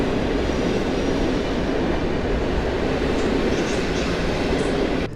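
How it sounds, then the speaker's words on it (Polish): Intercity Sobieski train at Warszawa Centralna station, a steady loud rumble of rolling carriages with a constant broadband roar and faint high squeals near the end, with no talk. "pociągu Intercity Sobieski z Wiednia do Warszawy Wschodniej."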